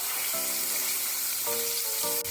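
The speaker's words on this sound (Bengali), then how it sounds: "নুন দিয়ে পনিরগুলো হালকা করে ভেজে নেব" Paneer pieces frying lightly in oil with a little salt, a steady close sizzle throughout, with faint tonal clinks from the pan partway through.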